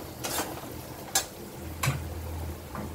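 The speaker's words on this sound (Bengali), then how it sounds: "এখন আমি ভেজে রাখা আলুটা দিয়ে দেব।" Fried potatoes drop into a pan of chana masala, and a few distinct scraping and clattering strokes from the spoon follow over a low sizzle, close and without speech.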